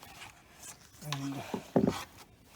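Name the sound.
Phillips screwdriver removing screw from air vent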